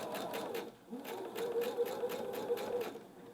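A sewing machine stitches around the edge of an appliqué neck piece, a steady close mechanical whir that pauses briefly near the start and then runs on evenly without talk.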